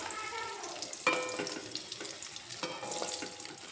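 Eggs fry in mustard oil in a pan with a soft, continuous crackling sizzle and a few sharper metallic clinks from turning them, close and fairly quiet, without any voices.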